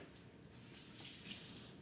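Water poured into a dog biscuit mixture with eggs already added, a steady close splashing pour that swells slightly toward the middle, with no talk over it.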